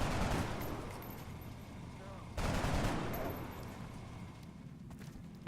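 Two bursts of gunfire from a soldier in XCOM: Enemy Unknown, loud and dense, the second volley kicking in sharply a couple of seconds after the first and fading out beneath a steady backdrop of game sound.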